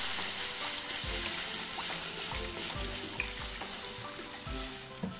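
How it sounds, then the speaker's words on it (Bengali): Masoor dal sizzles and fries loudly in a pan, a steady close crackle with soft stirring and scraping bumps underneath and no voices. "তারপর জল দিয়ে দেবো"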